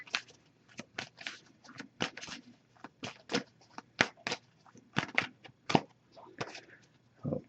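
A tarot deck is riffled and shuffled in quick crisp bursts, an irregular papery flutter close by with short pauses between riffles.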